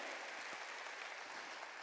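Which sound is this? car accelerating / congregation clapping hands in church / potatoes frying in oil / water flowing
congregation clapping hands in church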